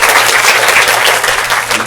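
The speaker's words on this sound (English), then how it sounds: "Can we give him a round of applause?" Audience applause following a speaker's introduction at a talk on language models, a dense steady wash of many hands clapping, loud and close throughout with no voices over it.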